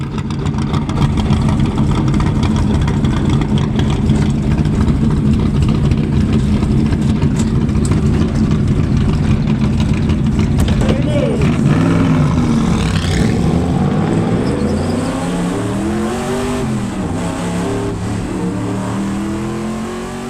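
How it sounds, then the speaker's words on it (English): A NASCAR car of tomorrow powered by a NASCAR-regulated 358 cubic inch Chevy small block roars loud and close at Las Vegas Motor Speedway, a sustained engine drone that shifts pitch with rising and falling revs through most of the run. "It's powered by a NASCAR-regulated 358 cubic inch Chevy small block"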